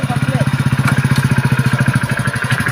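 A motorcycle engine idles nearby with a steady, rapid chugging pulse throughout, holding an even loudness.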